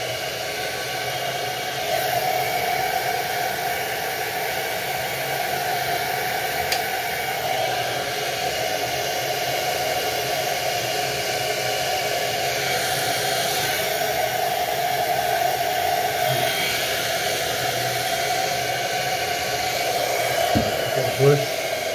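A hair dryer on a moderate heat setting blows steadily while a teddy boy quiff is styled, its airy whoosh holding constant for the full stretch, with faint talk now and then beneath it.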